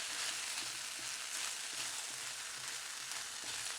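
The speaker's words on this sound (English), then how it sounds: "So let's get our quinoa mixed in" Pork sizzles and fries steadily in a pan while quinoa is stirred into it, a continuous close hiss with soft scraping from the stirring throughout.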